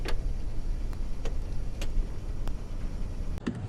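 A 2021 Buick Envision Avenir SUV on the road, with a steady low rumble of road and engine noise and a regular, evenly spaced ticking click, like a turn signal, across the whole stretch.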